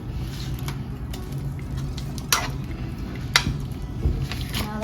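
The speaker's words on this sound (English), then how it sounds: "we're just gonna stir it until it becomes nice and creamy and melts" Mexican blend cheese melting in a pot while being stirred for arroz con pollo, with a soft continuous squishy sizzle and a few light utensil clicks against the pot.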